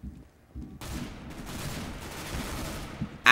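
Gunfire in Counter-Strike: Global Offensive during a Gun Game match, a dense burst of repeated shots and in-game clatter lasting a few seconds, fairly loud and close, with no voices.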